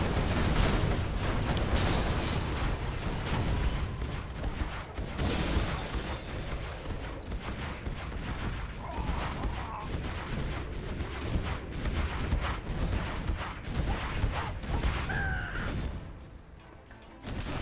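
Missiles and gunfire fill a battle in a strategy video game, a dense and continuous barrage of booming artillery-like blasts and crackling shots that runs without a break. No one talks over it.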